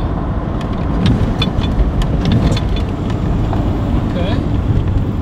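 A 1992 Mustang GT converted to dual EV crate motors drives slowly, a steady low road and motor hum with wind noise running throughout and a person speaking over it.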